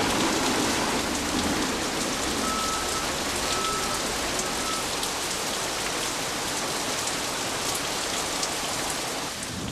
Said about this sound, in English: here would come the typical Malaysian Kuala Lumpur afternoon downpour.